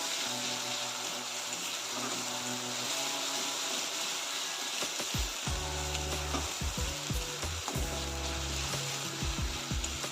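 Fish frying in hot oil in a home kitchen, a steady close sizzle running throughout, joined halfway by bursts of scraping and stirring from a utensil in the pan.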